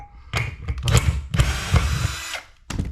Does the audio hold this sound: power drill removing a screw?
yes